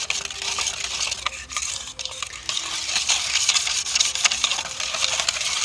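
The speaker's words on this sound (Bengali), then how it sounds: "তো এবার ভালো করে আমি মিশিয়ে নিলাম" Milk and raw mango mixture for a sweet yogurt dessert, stirred in a bowl, with a continuous wet swishing and scraping and occasional light clinks of a spoon against the side, up close with no talking.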